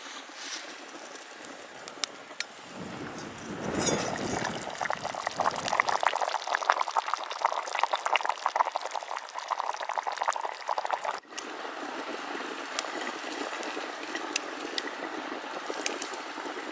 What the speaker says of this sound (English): I'm just going to slowly kind of try and keep it on the boil